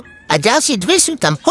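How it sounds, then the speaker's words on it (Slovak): A small kitten meows several times in quick succession, high and close, its short rising cries overlapping with a person talking nearby. "Tu je jaké malé mačátko."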